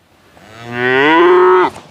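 A cow lets out one long, loud moo that swells and holds steady before cutting off, heard close and alone with no talk over it.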